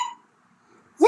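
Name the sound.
hiccup in Peppa Pig cartoon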